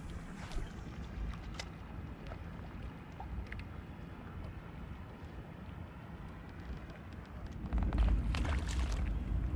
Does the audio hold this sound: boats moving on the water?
yes